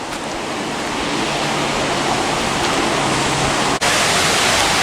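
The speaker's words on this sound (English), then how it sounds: "that's a heck of a waterfall, man" A large waterfall beside a bridge on an Oregon–Washington road trip roars in a dense, constant broadband rush that fills the whole clip, loud and close, with no voices.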